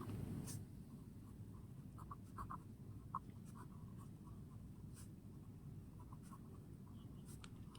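A pen scratches on paper in short, quiet strokes as a number is written by hand, faint intermittent scribbles over a low room hum.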